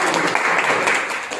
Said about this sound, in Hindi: जोरदार ताली चाहूंगा।